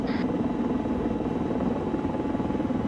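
Helicopter gunship (Huey) in a video game, a steady rapid rotor thumping drone throughout, loud and constant with no talking.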